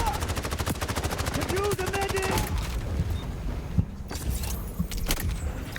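Gunfire in the shooter game XDefiant, with a rapid automatic burst up front followed by scattered single sharp shots and thuds over game noise, and a voice underneath.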